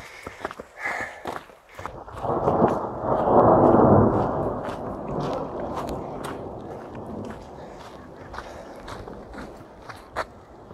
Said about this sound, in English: We're all taking refuge as it's thundering.